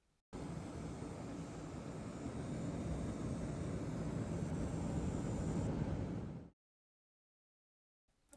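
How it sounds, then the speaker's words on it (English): An AMD Radeon 7900 XTX graphics card in a gaming PC with a 14900KF emits loud coil whine, a steady broadband electrical hiss and whine that holds for about six seconds and then cuts off abruptly into silence. "while this 7900 XTX is great, the coil whine, like I said earlier, is so bad"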